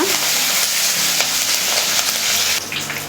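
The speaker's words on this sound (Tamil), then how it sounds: "கொத்து கருவேப்பிலை சேர்த்துட்டு இதை நல்லா வதக்கிடுங்க" Steady, loud sizzling of garlic, chili and curry leaves frying in hot oil for a banana stem stir-fry, with occasional stirring scrapes, no voices.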